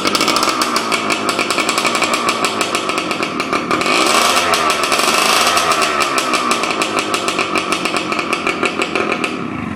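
A Yamaha RT100 two-stroke motorcycle with a blown crankshaft seal runs loud and close, its rapid buzzing, popping exhaust pulsing steadily, with a brief rise in revs midway and no talk.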